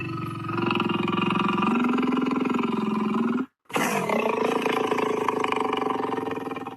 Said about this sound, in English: That was definitely a lion's roar.